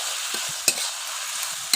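Bitter gourd cooking with turmeric in a kadai, a soft continuous sizzle with a few dull knocks and two brief sharp clinks as a spatula stirs it, with no voices.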